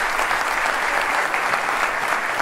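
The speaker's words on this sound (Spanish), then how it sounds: "Fuerte el aplauso." Steady, dense applause from a live stand-up comedy audience in Montevideo, a continuous wash of many hands clapping at even loudness throughout, with no voices heard over it.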